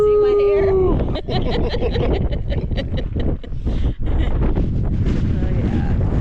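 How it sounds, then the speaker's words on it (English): Strong wind gusts of up to 110 mph roar and buffet straight into the microphone on an exposed ranch at John Day Fossil Beds. The rumble is loud and continuous, with voices partly heard through it. "we went from down there, wasn't very windy, to wind gusts of 110 miles per hour"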